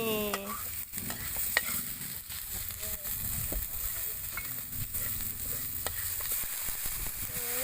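Freshwater mussels are stir-fried Isan style with garlic and lemongrass, giving a continuous loud sizzle broken by repeated clicking and scraping as the shells are tossed and stirred in the pan.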